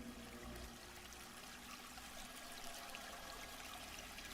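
Water trickles and pours steadily through a swamp, a soft continuous flow with faint dribbling detail running the whole time, low in level and without voices.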